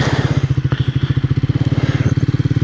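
A 2025 Triumph Speed 400 single-cylinder motorcycle rides along with a loud, close, rapid thumping exhaust pulse that stays steady throughout, with no one talking.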